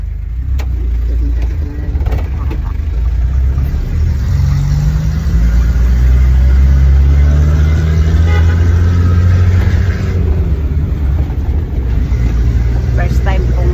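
A car engine labors climbing a steep mountain road toward Mount Kanlaon, a loud, continuous low drone with a rising, strained note throughout.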